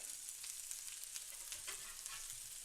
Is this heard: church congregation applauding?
no